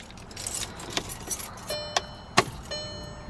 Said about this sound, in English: And you need the key in the ignition.